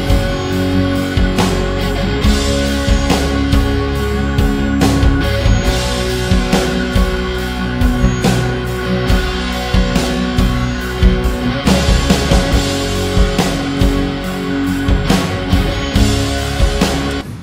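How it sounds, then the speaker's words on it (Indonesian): A MIDI drum kit with kick and snare, converted from an audio track, plays a steady, busy pattern of punchy hits for the whole stretch, loud and continuous with no talk. "Kalau gue pakai suara dari midi drumnya seperti ini jadinya."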